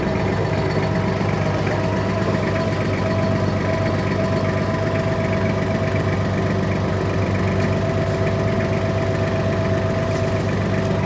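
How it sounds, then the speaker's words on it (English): Woodland Mills stump grinder spinning at low idle on a Kubota L-Series tractor, a loud, steady, unbroken engine drone with droning harmonics throughout, no talk. "we're going to test run, low idle. Just make sure it spins with nothing going flying"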